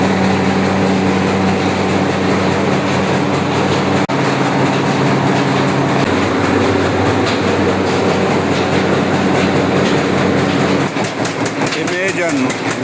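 A rare 1940s Blackstone engine runs steadily at a coffee and corn factory in the Philippines, a loud continuous mechanical drone with rhythmic clatter throughout, while people talk over it.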